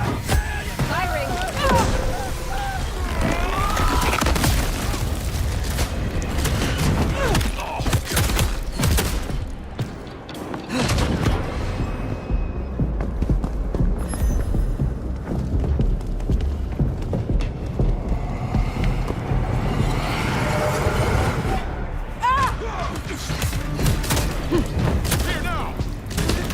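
Gunfire crackles through a combat scene in Vampire the Masquerade Bloodlines 2, with rapid bursts and thuds layered over dense game noise, loud and continuous apart from a brief lull, with shouted voices.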